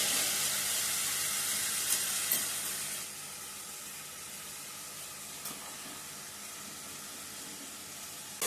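Masala frying in hot oil with onions for an Andhra fish curry sizzles in a steady hiss, loud at first and then settling lower, with a few faint clicks of stirring.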